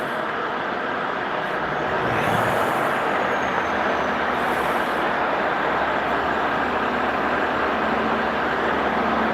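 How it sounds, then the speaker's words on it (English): A truck passes at night as a broad, steady roadway rumble that rises slightly and then holds for several seconds, with no voices heard. "Can you hear that truck"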